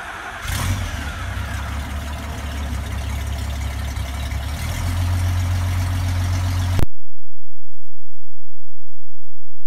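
A Jabiru aircraft engine runs loud and steady for about seven seconds, its deep rumble rising partway through, then cuts off abruptly to near silence.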